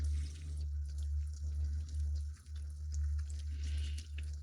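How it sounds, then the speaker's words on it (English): Water from a tap runs steadily over a plastic part from a 1:48 scale ERTL/ESCi Panavia Tornado model kit as it is rinsed, a continuous close splashing wash with small fluctuations. "Let's give it a rinse."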